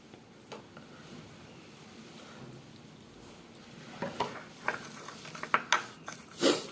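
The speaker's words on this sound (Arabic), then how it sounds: "غادي نخلط ونشوف الكثافه ديال الماسك كيفاش" A spoon stirs a thick homemade face scrub mask made with olive oil, soft scraping at first, then a run of louder clinks and taps against the bowl near the end, close up with no speech.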